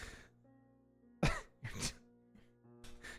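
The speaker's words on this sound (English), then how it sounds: "You're choking and coughing?" A person coughs and clears their throat in a few separate harsh bursts with quiet gaps between them, close up over a faint tonal hum in the background.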